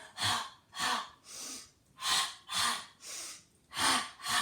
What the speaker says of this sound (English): you want to do the ha-ha at home, like you're fogging up a mirror